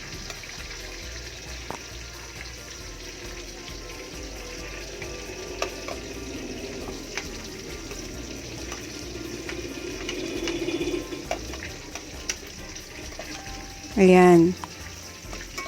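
Garlic and onion sautéing in hot oil, a low steady sizzle with light stirring, while a voice speaks briefly near the end over it.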